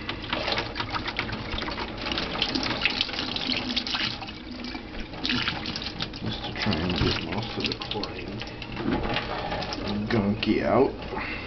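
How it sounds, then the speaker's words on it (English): Tap water running while aquarium filter carbon is rinsed with RO water, a continuous splashing, gurgling flow with shifting intensity, close by, with a person talking at times over it. "I'm just gonna give it a nice rinse with the RO water"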